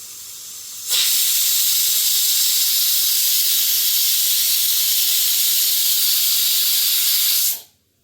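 A kitchen pressure cooker holding vegetables for a stew vents steam in one loud, steady hiss that starts abruptly, runs unbroken for several seconds and then cuts off.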